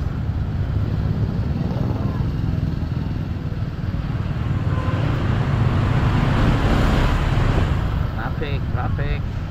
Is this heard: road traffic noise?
yes